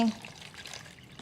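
Water poured from a cup into a pot while making a pudding, a short soft trickle and splash heard faintly after a brief spoken word.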